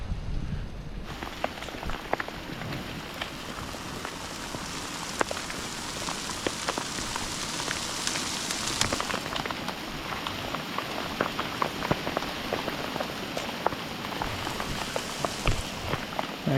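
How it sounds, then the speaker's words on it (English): A hailstorm pours down on Yosemite's Cathedral Lake Trail during a big thunderstorm. Dense hail drums steadily and close by, with sharp pelting impacts throughout and no talking. "while we got this hail"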